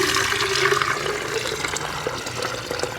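Water gushing from a garden hose spigot into a 64-ounce container, a steady broadband rush that continues loud and close throughout with no talk.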